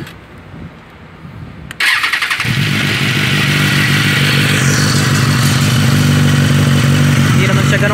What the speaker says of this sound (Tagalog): So ayan, parinig ko sa inyo yung tunog ng tambutso niya mga homes.